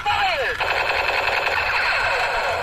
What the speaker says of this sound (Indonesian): Tembak-tembakan Ultraman.